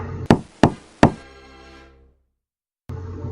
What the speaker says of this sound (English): Knock on the door of the room next to it.